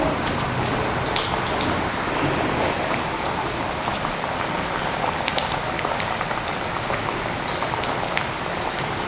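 Chilapi fish frying in a pan of oil, a loud, dense, continuous sizzle like heavy rain that holds steady from start to finish with no talking.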